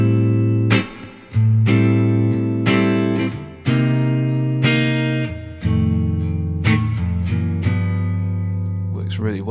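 Blues rhythm guitar plays a backdoor dominant progression, with a series of strummed seventh-chord voicings rung out and left to sustain at a steady pace, loud and close, with no talking.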